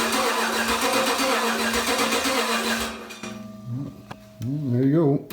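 A Gen III Hemi engine swap on factory components cranks and fires up: a steady loud whirring drone, then a pause, then the starter grinds in bursts before the engine catches and rumbles to life, close and loud.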